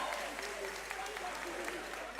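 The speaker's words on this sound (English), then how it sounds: "A round of applause to them" An audience at a university quiz competition semi-final applauds contestants, a dense, even patter of clapping hands sustained throughout at moderate distance.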